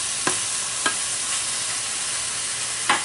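Beef sears in a hot pan on high heat for beef stroganoff, giving a steady, close sizzle broken by three sharp spatter pops.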